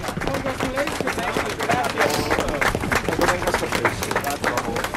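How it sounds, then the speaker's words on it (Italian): Crowd applause for the European cyclocross M1 champion at an outdoor event, dense steady clapping close up with crowd murmur and voices mixed in throughout. "Facciamogli un applauso ancora più forte"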